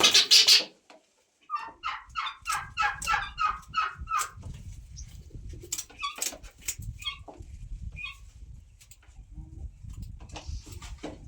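Turkeys kept in a village yard call in a run of rapid, rhythmic gobbling bursts, fairly close, with scattered squawks and clucks and a low rustle of birds moving underneath.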